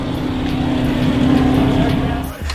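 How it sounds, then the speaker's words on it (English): Outboard engine of a fishing boat idling out of gear on a lake, a steady, loud motor drone holding for over two seconds before briefly dipping near the end. "Warming the engine up."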